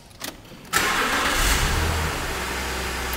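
A 2005 BMW 530i cranks over briefly, catches with a sharp surge, revs up, then eases down into a steady, smooth idle, heard close with no talking.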